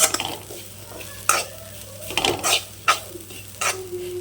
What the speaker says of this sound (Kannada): ಈಗ ಇದಕ್ಕೆ ಸ್ವಲ್ಪ ಕರಿಬೇವಿನ ಎಲೆಯನ್ನು ಹಾಕ್ತೇನೆ, ಚಂದ ಫ್ರೈ ಆಗಬೇಕಿದು